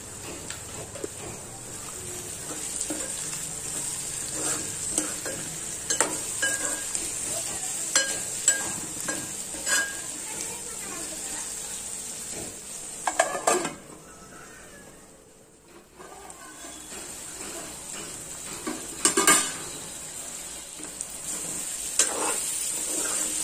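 Bitter gourd fry being stirred in a pan after a pinch of turmeric and salt go in, a steady soft sizzle with scraping stir strokes and occasional utensil clinks, close and alone.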